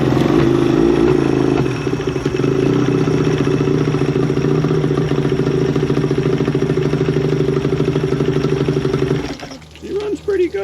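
Evinrude 30hp tiller outboard motor running steadily with a loud, rapid chugging clatter close by, then cutting off and leaving a brief burbling tail.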